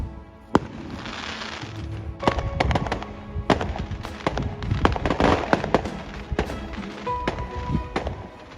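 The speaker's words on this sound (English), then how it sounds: "We saw some fireworks on the way to our tennis session" Fireworks crackle and pop outdoors, a dense run of sharp bangs and snaps at varying distances over several seconds, with no talking.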